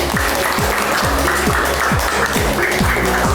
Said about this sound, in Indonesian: biasa, tepuk tangan dulu.